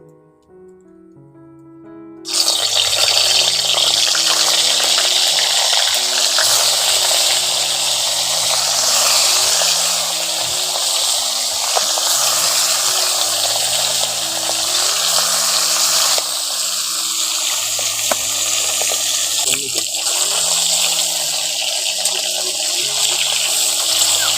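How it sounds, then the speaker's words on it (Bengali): Fish sizzle loudly as they go into hot oil in a wok. A burst of bright, crackling hiss starts abruptly and keeps going, with a soft melody playing faintly beneath. "ওই তেলের মধ্যে মাছগুলো দিয়ে দিচ্ছি"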